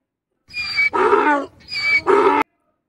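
A person imitates a donkey's bray, two drawn-out hee-haw cycles in a row, loud and close, then silence.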